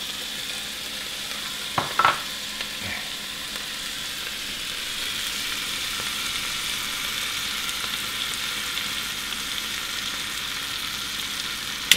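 Scallops sizzling in a hot pan for linguini Positano, a steady soft hiss of frying with a few sharp clatters near the start and a clank at the very end.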